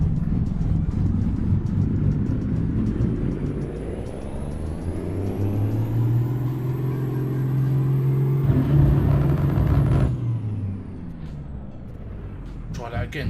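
Heavy truck engine with a Cummins sound mod in Euro Truck Simulator, a steady loud diesel drone that swells and holds around mid-clip, briefly cutting out near the end, with a high whine above it and a voice talking over it.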